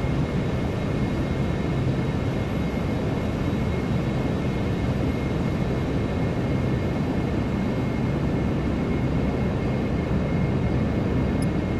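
Steady droning engine noise from a Q400 turboprop taxiing in a flight simulator, a continuous loud broadband hum with faint tonal whine that holds evenly throughout with no talk.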